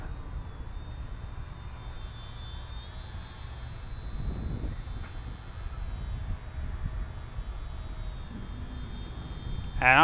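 A HobbyZone Sport Cub S RC plane's electric motor drones steadily under throttle at a distance, faint and continuous with a thin high whine, ending in a louder burst close by.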